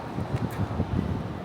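Wind blowing outdoors in downtown Nashville, a steady low rushing buffeting against the microphone with faint rustling, soft and continuous, with no talking.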